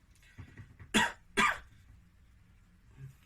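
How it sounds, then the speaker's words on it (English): Two sharp coughs in quick succession from a patient during a medical examination, followed by quiet breathing. "I need you to cough for me"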